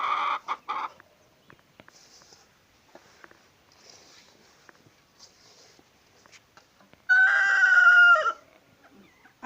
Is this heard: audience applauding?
no